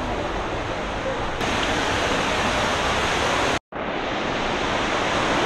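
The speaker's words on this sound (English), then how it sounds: "sounds like there's another waterfall." A nearby waterfall roars loudly and steadily, a thick unbroken wash of sound that drops out for a split second midway before resuming.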